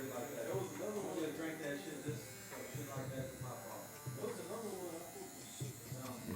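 Electric hair clippers fitted with a number 2 guard cut hair in a barbershop, giving a steady close buzz under continuous talking.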